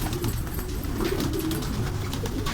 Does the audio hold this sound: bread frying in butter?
no